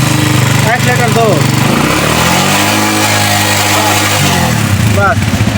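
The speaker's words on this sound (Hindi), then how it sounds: "अब स्टार्ट करो भाई, स्टार्ट करो। एक्सीलेटर भी दो, एक्सीलेटर दो, एक्सीलेटर दो।" A Honda 125 motorcycle engine runs loudly and close, its throttle blipped so the revs rise and fall in swelling pulls, while someone talks over it.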